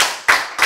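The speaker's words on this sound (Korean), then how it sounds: "아, 박수." A few loud, sharp hand claps ring out close by in quick succession during a Korean lecture on God serving humanity.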